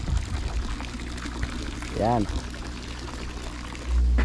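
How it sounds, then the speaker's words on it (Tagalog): Water from a creek runs continuously in a steady, splashing pour, with someone talking over it. "Tuloy-tuloy yan, galing sa sapa."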